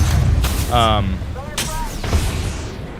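Gunfire in the video game Apex Legends, with bursts of shots striking an enemy shield, loud and close, mixed with game sound effects and a voice talking over it.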